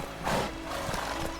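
Horse hooves in The Witcher 3, a soft, steady clip-clop of a few hoofbeats over a low, constant background hum, with no talk.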